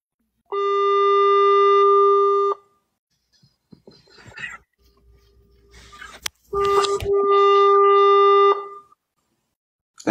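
Two long steady calling tones sound alone, separated by a stretch of faint rustling and handling noise.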